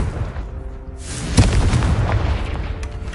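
A Confringo spell detonates in a Harry Potter video game with one sudden booming blast. A rumbling, crackling decay follows it over a background of game ambience.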